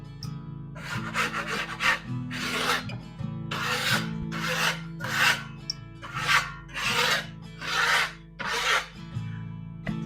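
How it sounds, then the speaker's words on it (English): A 6-inch broad knife scrapes lightly across a plaster wall patch in about eight rhythmic rasping strokes, close and alone. "grab your 6-inch broad knife, like so. Give it a light scrape just to get rid of any lines within the"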